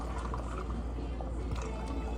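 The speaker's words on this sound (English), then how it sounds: "Okay, so then we're gonna add some water." Water poured into a mixing cup while making a lemon-lime Herbalife tea, a continuous close splashing and trickling stream with no pauses, with no speech.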